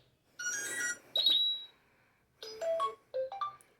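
Default notification tones on a Tecno mobile phone play as short electronic chimes, two or three bright bursts with melodic rising notes, clear and close with silence between them.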